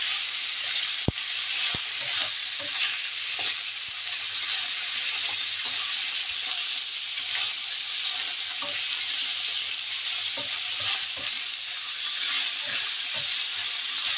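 Pork fries hard in a wok with a dense, continuous sizzle and crackle, interrupted by occasional sharp metallic ticks of a utensil scraping the pan; no talking.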